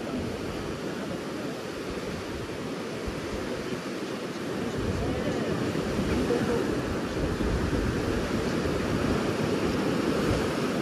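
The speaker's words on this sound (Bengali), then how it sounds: "ঠান্ডা বাতাস রোদের মধ্যে, তাই না?" Cold wind gusting at Daepo Jusangjeolli seaside cliff on Jeju Island, South Korea, a steady broadband roar blended with crashing surf, growing slightly stronger midway and continuous throughout.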